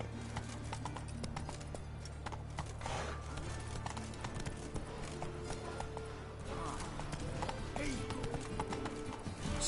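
A horse in The Witcher trots with quiet, rhythmic clip-clopping hooves over a low steady background, faint and continuous throughout.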